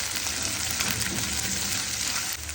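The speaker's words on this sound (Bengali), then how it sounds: "এখন আমি পেঁয়াজ আর রসুনগুলো ভেজে নিব।" Onion and garlic sizzle and fry in hot oil in a pan, a steady dense crackling hiss that runs continuously without pause, close and fairly loud, with no voices over it.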